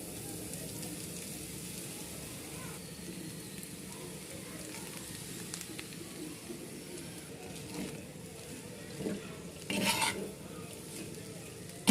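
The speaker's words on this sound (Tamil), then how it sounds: "இப்போது உதிர்த்து வச்சுருக்க இட்லியை கொட்டி நல்லா மிக்ஸ் பண்ணி விட்டுடலாம்" Crumbled idli is stirred into a hot pan for South Indian idli upma, with a soft continuous sizzle and scraping, stirring strokes throughout, a few louder clatters near the end, and no talk.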